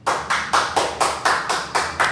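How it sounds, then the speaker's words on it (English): Hands clapping in a podcast studio, nine sharp, evenly spaced claps in a steady rhythm, close and loud with no talk. "clap it up"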